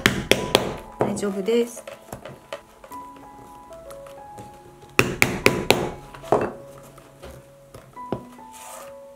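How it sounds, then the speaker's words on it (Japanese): A hammer drives a punch to make stitching holes in leather for a tote bag: sharp, loud, close strikes in quick bursts of several blows, with pauses between them, and a voice speaks briefly. "この状態でずっとね下まで穴を開けていきます"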